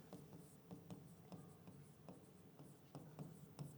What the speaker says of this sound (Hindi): मैं पहले इसकी डेफिनेशन लिखता हूँ